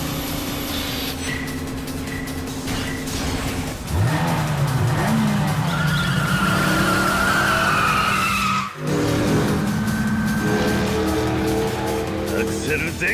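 Race car tires skid and squeal loudly as the engine revs at full throttle, a sustained roaring whine rising in pitch with a brief dropout near the end, while voices speak over the action.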